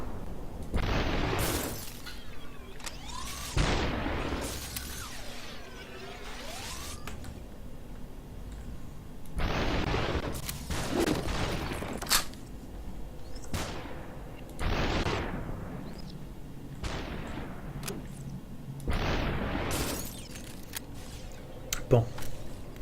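Gunshots in the video game SUPERHOT come as a series of sharp, loud bursts spaced several seconds apart, with a French-speaking voice talking between and over them.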